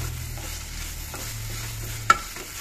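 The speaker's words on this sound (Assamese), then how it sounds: "লৰাই লৰাই দিব।" Bitter gourd and small fish curry is stirred in a pan once most of the water has cooked off, with a soft, low sizzle and a few faint scrapes, then one sharp clink near the end.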